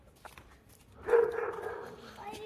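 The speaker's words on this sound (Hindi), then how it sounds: "और यहाँ से जर्मन शेफर्ड भौंक रहा है।" A German shepherd barks once or twice in the distance, a short muffled burst heard through background chatter outdoors.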